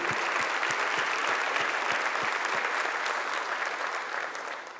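An audience at a Catholic church talk claps in steady, dense applause, loud and sustained, fading slightly toward the end.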